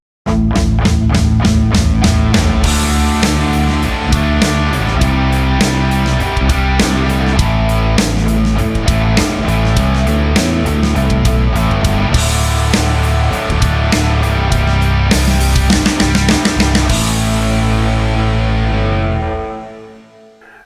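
Split-rhythm distorted electric guitar tracks played through basket weave cabinets on an Axe-Fx, dense and loud with steady chugging strums and no gaps, ringing out and fading in the final second.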